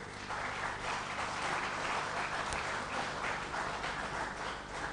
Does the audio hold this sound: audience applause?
yes